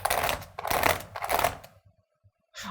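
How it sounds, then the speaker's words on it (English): Someone prying at the keyboard of an ASUS BR1100F laptop, giving three close, loud bursts of plastic clicking and rattling, then a short pause and a final burst. "So if your kids ever get angry at the laptop and starts to pry the keyboard,"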